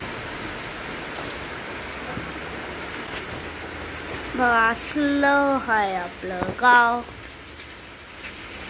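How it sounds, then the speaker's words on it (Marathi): Steady drizzle of monsoon rain falling outdoors in a village, a soft continuous hiss throughout, with someone speaking briefly partway through. "पाऊस काय आजच्या दिवस उघडलाच नाही, नुसता रिमझिम"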